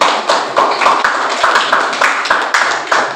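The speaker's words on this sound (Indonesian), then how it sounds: "kita berikan aplaus dulu" A small group claps together in a steady burst of applause in a classroom during a teaching exam, close and lively, with sharp hand claps running throughout.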